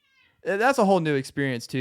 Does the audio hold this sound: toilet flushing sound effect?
no